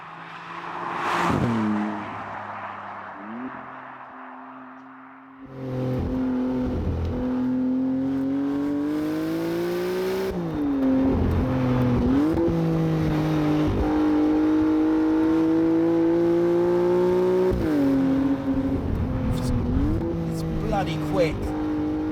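A Maserati MC20 in sport mode accelerates hard, its engine note climbing through the gears with sharp drops at each shift, loud and close from the cabin, with a voice over the start.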